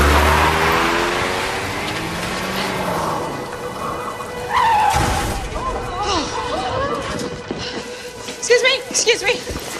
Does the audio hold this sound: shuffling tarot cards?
no